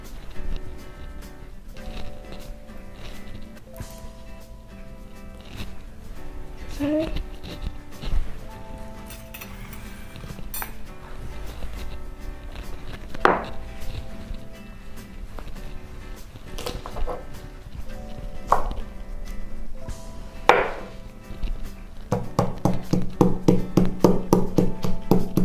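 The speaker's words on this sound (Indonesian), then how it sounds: "Nah, udah gitu, kita tinggal ulek dulu bahan-bahannya yang di sini." Three red curly chilies and spices are pounded and ground in a stone mortar, giving scattered taps, clinks and scrapes that build into a quick, steady grinding rhythm near the end.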